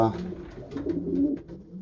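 Long-distance racing pigeons in an American loft coo in soft, rolling calls close by, with a voice seeming to talk over them.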